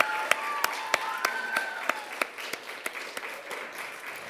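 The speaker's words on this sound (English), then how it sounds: "let's have one more round of applause for everybody in the room on your accomplishments this year." Scattered audience clapping in a school auditorium at a high school band awards program, sharp distinct claps from a few people at a fairly steady pace, with a faint sustained musical tone underneath in the first half.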